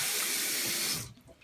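Tap water running for a rinse after sanding, a brief close hiss of flowing water that stops after about a second, leaving faint drips.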